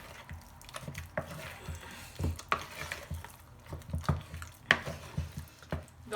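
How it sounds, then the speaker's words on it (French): A spoon stirs potato waffle batter in a bowl, giving irregular soft scraping and tapping strokes. The strokes are close and moderately loud, with no talk. "On remélange un coup."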